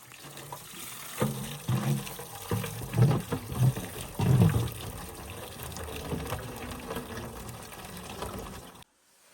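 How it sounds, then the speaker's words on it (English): Water from a natural spring in the Alaskan wilderness flows and splashes steadily, a close, continuous gush with uneven surges, with no voices. "There's our spring, and we got water."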